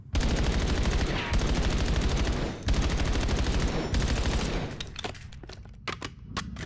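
Rapid burst fire from a gun in Black Ops 7: long, loud strings of fast shots with brief gaps between bursts, then a few sparse single shots as the firing trails off.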